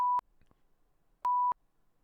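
A voice imitates the beeping of a racing simulator: two flat, steady electronic-sounding tones, a short one then a longer one after a pause, clear and close.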